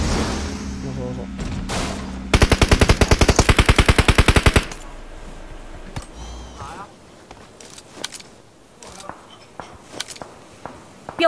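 Rapid burst of machine-gun fire in a tense public-match video game, a loud rhythmic volley of about two seconds, followed by scattered fainter shots and footsteps under background game noise.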